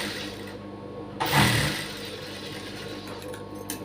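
A sewing machine stitching a blouse runs steadily with a close mechanical hum, swelling briefly into a louder burst of stitching partway through, with no talking.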